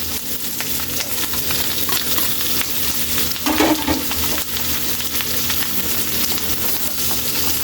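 Pork sizzling steadily in a hot pan as it is stir-fried for adobong sitaw with white onion, a continuous loud frying hiss with a brief burst of stirring midway, no talk.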